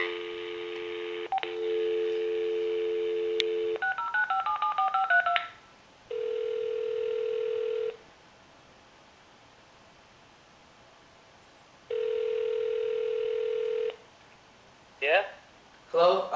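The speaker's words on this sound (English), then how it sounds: "Oops, wrong number. Dial again." Touch-tone telephone keypad beeps in short runs alongside steady dial-tone bursts that start and stop, with brief rustling handling noise near the end.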